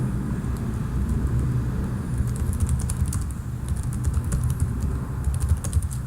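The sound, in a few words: typing on a computer keyboard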